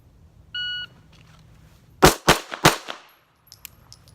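A handgun fires three quick shots at an IDPA target from 3 yards, loud sharp cracks about a third of a second apart with echoing decay, preceded by a short electronic timer beep and followed by a few faint clicks.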